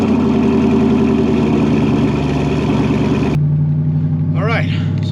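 A twin-turbo C5 Corvette engine runs loud and steady, droning throughout with a sudden shift in tone partway through as it settles into a lower idle-like rumble, with speech-like sounds over it.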